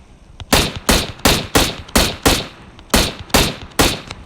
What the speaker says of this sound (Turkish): Kaç tane mermi bir şarjör boşalttım ikinize.